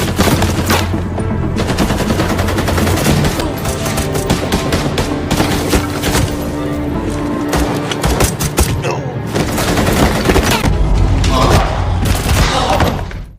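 Rapid bursts of gunfire ring out, loud and sustained, with automatic volleys and booming reports echoing through an enclosed space.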